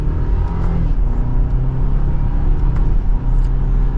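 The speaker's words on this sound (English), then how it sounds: "now that we're behind the wheel of the X3 in sport mode and the manual setting, let's give it some gas" A 2024 BMW X3 in sport mode with manual shift setting accelerating from inside the cabin, a loud steady engine drone and road rumble holding at a fairly constant level for a few seconds.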